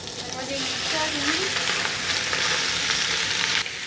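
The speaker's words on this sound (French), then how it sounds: "Ce qu'on veut, c'est saisir notre viande. On ne veut pas qu'elle boue, on veut qu'elle colore d'un seul coup." Meat sears in a very hot pan, a loud, dense, close sizzle that holds steady for several seconds with a few brief squeaks of the pieces and a soft voice underneath.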